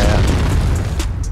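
A grenade goes off in a shooter video game as one loud, close boom with a rumbling low tail that fades within about a second.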